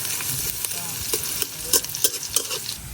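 Onions fry lightly in a pan with a continuous soft sizzle, broken by sharper scrapes and clacks of a spatula stirring them at an uneven pace.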